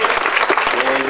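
Short burst of applause from a crowd gathered on a small town street beside a school, dense clapping with voices mixed in.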